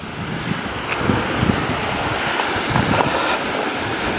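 A steady, dense rush of a mountain waterfall near Chamonix fills the scene, broad and unbroken, with a few faint knocks and no voices.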